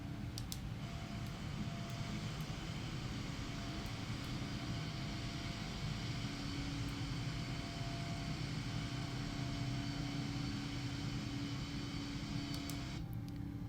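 A fixed-wing airplane's engine drones in a flight simulator game, a steady broadband hum with a low rumble that persists evenly at moderate level throughout, with no speech.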